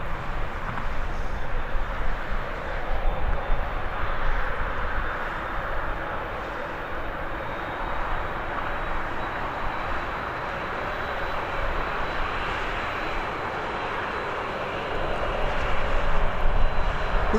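A SunExpress airliner arrives at Birmingham airport, its steady broad jet roar holding across the whole stretch at moderate distance and swelling slightly near the end.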